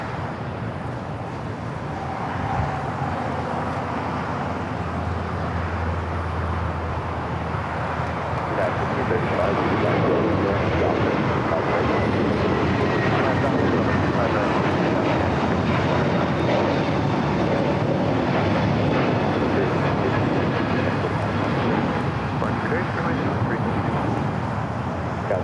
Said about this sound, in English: Asiana A380 Super taking off there on the north side, flight 201.